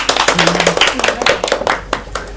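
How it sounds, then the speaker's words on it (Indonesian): A classroom of geography education students claps to welcome a student group forward during a microteaching session: a burst of close, crisp individual claps, uneven and lively, fading after a couple of seconds, with a faint voice briefly underneath. "Beri tepuk tangan buat kelompok Mbak Devina."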